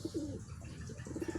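Soft, low pigeon cooing in short repeated phrases, fairly close, with faint background noise and no voices.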